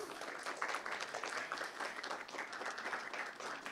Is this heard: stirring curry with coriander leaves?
no